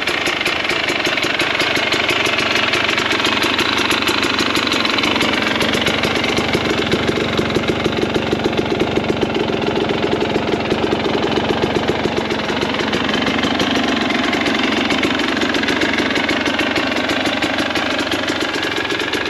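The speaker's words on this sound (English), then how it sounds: "Sit there, let the bike idle." A 2022 KTM 300 XC two-stroke dirt bike engine idles steadily up close, a loud, even running note with a fast uneven burble that holds throughout without voices.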